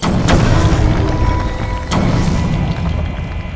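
Explosives detonate in the video game Batman: Arkham Origins, with two sharp booming blasts about 1.6 seconds apart, each followed by a lingering rumble.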